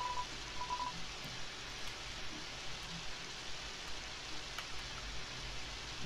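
In the game Undertale, rain falls as a steady, even hiss that stays low and constant throughout, with a few faint tonal blips near the start and no voices.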